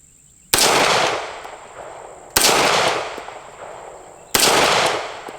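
A Beretta 92S pistol fires three single shots at a long-range target at 100, each a loud, sharp crack with a decaying echo, spaced about two seconds apart, with no talking.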